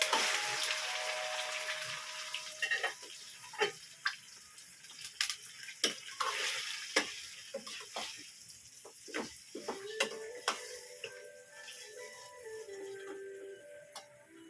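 Chicken pieces sautéing in a pan with browned garlic and onion for chicken calderita, a steady low sizzle broken by sharp, irregular pops and clicks, fairly close, with no talking.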